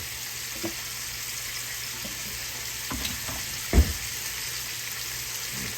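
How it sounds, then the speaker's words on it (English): Shrimp sizzle in a hot pan for a shrimp and tortellini Alfredo dish, a steady close frying hiss with a few soft clinks and knocks from stirring, and no talk. "Shrimp don't take long at all to cook."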